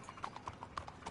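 Horse hooves clip-clop in a video game set in a Western frontier town, a quick, steady rhythm of light knocks that stays fairly faint with no voices over it.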